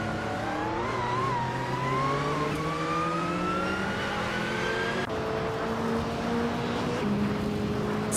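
Porsche 911 GT2 race car engines in a racing video game, a sustained high engine whine rising in pitch through gear changes, loud and continuous with other cars droning underneath.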